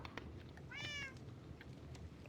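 A single cat meows once, short and fairly clear over a quiet background hiss, with no talking.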